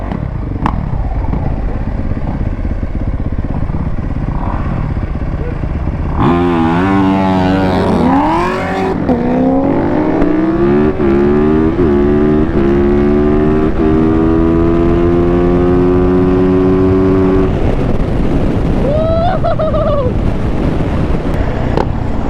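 A Yamaha Banshee ATV and a 450 dirt bike race side by side, engines roaring loud and close as they rev hard and climb through the gears, then fade off into the distance under wind noise.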